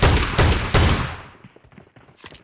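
Shotgun fire in the mobile game BGMI: three loud, booming blasts in quick succession, followed by fainter scattered game sounds.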